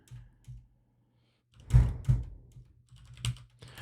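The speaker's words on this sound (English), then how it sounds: "I'll just echo this out," A computer keyboard is typed on in short bursts, a few soft taps, then a quick cluster of louder key thumps and clicks, close and alone in a quiet room.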